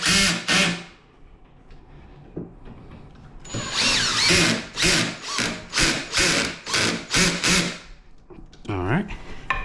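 Screws driven into a wooden rocking chair by a power drill: two short bursts, then a long run of about eight pulsing whirs as the screw seats, loud and close, with brief talk at the start and end.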